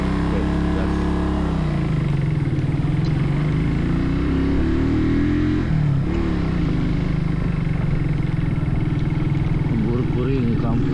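Motorcycle engine accelerating uphill on a road north of Bandung, a loud, close, continuous drone that rises and falls in pitch as it labors. Speech is heard over it.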